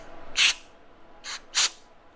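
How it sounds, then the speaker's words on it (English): Three short hissing bursts of aerosol cleaner sprayed into a RideTech ShockWave air shock part during a rebuild, one longer burst and then two closer together, close and fairly loud against a quiet background. "we're just going to spray a teeny bit of cleaner in there"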